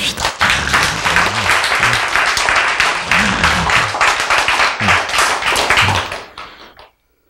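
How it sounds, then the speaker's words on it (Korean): An audience applauds loudly and steadily during a Korean church sermon, a dense mass of close hand claps with faint voices mixed in, lasting several seconds before fading quickly into silence. "박수 한번 칩시다"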